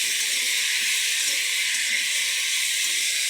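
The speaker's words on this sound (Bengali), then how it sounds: "ভালো করে ভেজে নিতে হবে।" Okra and potatoes frying in a pan with salt, turmeric and chili powder, giving a steady, loud, even sizzle that holds unchanged throughout with no talking.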